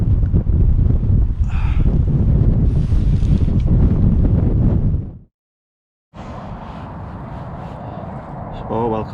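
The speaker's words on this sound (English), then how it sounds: "that is a very strong cold wind" Strong cold wind buffets the microphone in loud, broadband roaring gusts, breaks off into a few seconds of silence, then returns at a steady roar near a fishing spot.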